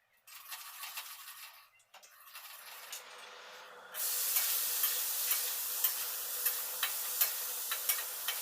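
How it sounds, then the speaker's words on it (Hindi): Bhaji stirred and frying in a pan at home, with a steady hiss of sizzling and clinks of the spoon against the pan, growing louder and brighter midway with regular scraping taps. "यहाँ पे मैं भाजी बना रही हूँ।"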